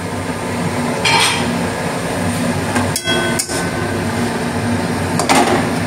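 The lid comes off a cooking pot of cholar shak (chickpea greens), with a few sharp metallic clanks and clinks over a steady kitchen background noise.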